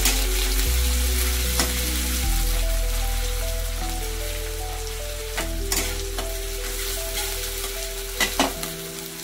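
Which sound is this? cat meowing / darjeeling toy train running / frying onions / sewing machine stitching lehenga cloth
frying onions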